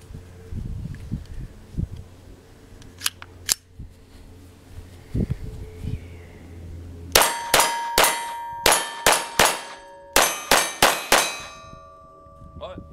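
Bullets from a SIG 1911-22 pistol strike steel gongs in a fast series of about ten metallic hits, each clang sustaining briefly, with faint outdoor noise before.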